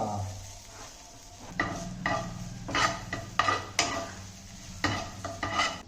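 Ginger frying in hot butter in a pan, with a low steady sizzle under repeated stirring and scraping bursts as it is moved around.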